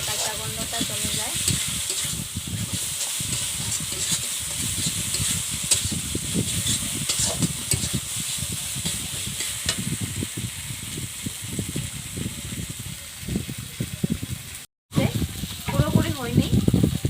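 Garlic, ginger paste and spices fry in a pan with a steady, close sizzle and hiss that runs throughout, broken by stirring scrapes, while a voice talks over it.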